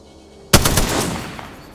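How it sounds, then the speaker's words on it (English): A rapid burst of automatic gunfire rings out in Apex Legends as a player shoots a cargo bot, a sharp loud onset followed by several quick shots that trail into a fading echo. "I shot a cargo bot."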